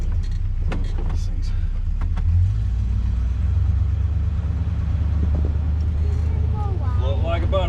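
A 1970 Plymouth Fury with a newly installed C-body front suspension kit cruises along, a low steady road rumble and engine drone inside the cabin, while people talk over it.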